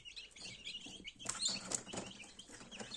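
Newly hatched chicks, dried off inside a 72-egg Teplusha Lux incubator, give soft, high, overlapping peeps and chirps in a quiet, continuous chorus.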